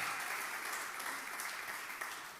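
A church congregation claps steadily, a dense wash of applause at moderate volume, slowly fading toward the end.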